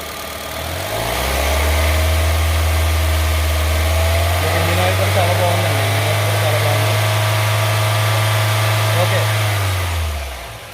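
A Honda City car engine starts low, then revs up and holds a loud, steady high drone for several seconds before dropping back to idle.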